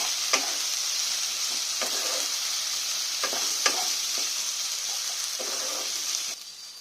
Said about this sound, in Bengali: আদাটা দিয়ে আমি ভালো করে একটু ভেজে ভেজে নিয়েছি